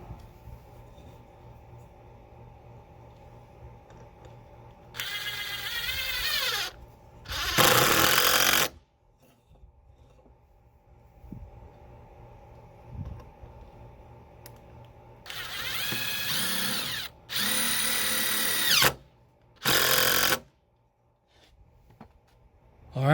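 A power drill driving pocket hole screws into the rough wood framing of a DIY utility shed, several loud bursts of whirring separated by pauses, close by with no talk.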